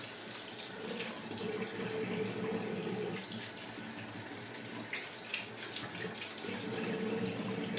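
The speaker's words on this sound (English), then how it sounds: "I'm going to just go ahead and rinse this brush off" A shaving brush rinsed under a running tap at a sink: a steady, close rush of water splashing for the whole stretch, with slight shifts in the spatter as the brush moves through the stream.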